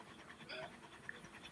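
A dog panting steadily while being petted, quick soft rhythmic breaths close by with faint background noise.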